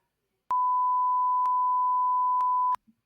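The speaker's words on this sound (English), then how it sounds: "There's another beep." A censor beep holds one steady, clear electronic tone for over two seconds, standing alone in near silence and ending abruptly.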